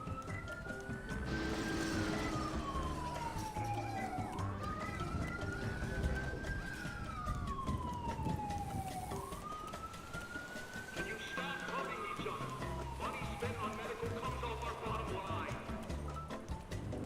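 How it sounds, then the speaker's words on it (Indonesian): A police siren in the GTA V roleplay game wails in slow rising and falling sweeps, repeating about three times over a busy game background at moderate level. "Wah, ada sirine."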